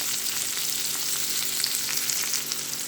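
Onion frying in olive oil, a dense, even sizzle that crackles steadily and close up throughout, with no voices.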